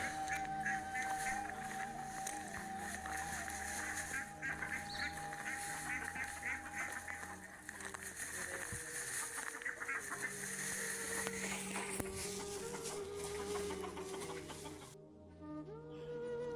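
Ducks quacking and chickens crowing and clucking around a backyard poultry feeding spot, a dense continuous chorus of overlapping calls lasting throughout, close and fairly loud.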